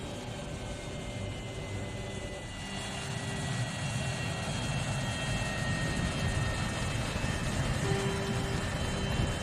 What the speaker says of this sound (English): Routine landing.